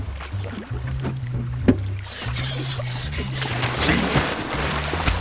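A speedboat drones on the water with a low, steady engine hum and splashing hull slaps, with occasional bumps and faint voices in the background.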